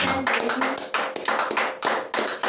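A church congregation claps for Jesus in a steady, quick rhythm of loud, close handclaps, many hands together with no break.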